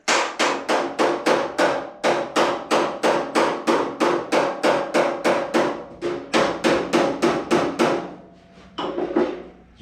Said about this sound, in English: Now I'm going to go to a light pick hammer, and we're going to work on that center just a little bit.